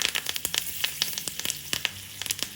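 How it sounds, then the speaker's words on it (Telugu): Tempering spices and curry leaves crackle and pop in hot oil, a quick irregular run of sharp sizzling snaps, close and fairly loud. "తాలింపు వేగుతున్నప్పుడు లాస్ట్గా కరివేపాకు వేసుకుందాం"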